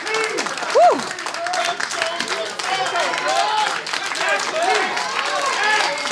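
A wrestling crowd applauding both wrestlers at an NWA Powerrr event, steady clapping and crowd noise throughout with cheers and whistles rising over it, under ongoing talk.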